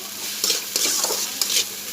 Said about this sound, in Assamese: এতিয়া লৰাই পেলাই মই ভাজি ল'মগৈ